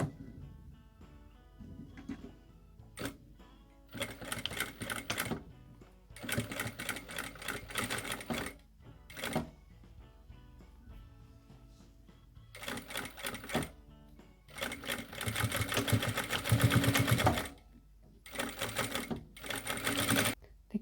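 A sewing machine stitches a seam on an insulated winter sleeping bag in repeated loud bursts of rapid needle clatter, separated by short pauses, close up with no talk.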